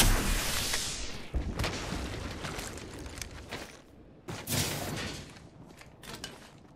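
Gunfire in Apex Legends Season 14 on the Vantage map: a dense run of sharp, close shots and heavy booms, with a short lull before a fresh loud burst, then scattered shots trailing off.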